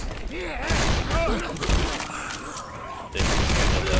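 Gunfire in the zombie co-op video game Left 4 Dead 2: a dense burst of shots and impacts with a heavy thud partway through, loud and up front, mixed with game effects and overlapping talk from players.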